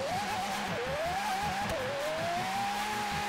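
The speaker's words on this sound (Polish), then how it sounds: "To jest klasa S2 i prawie wymaksowany jest ten samochód." A near-maxed S2-class car in Forza Horizon 3 drives under power, its engine note climbing and dipping with gear changes while tires squeal, loud and steady throughout with no one talking.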